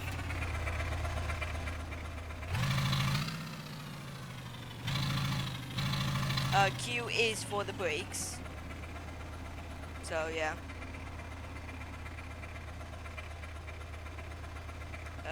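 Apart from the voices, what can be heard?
8x8 truck engine idling in video game GearBlocks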